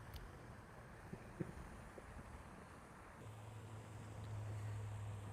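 Wind blowing across open water during a fall fishing outing, a faint, steady broadband rush with a few small knocks, joined later by a low, even drone.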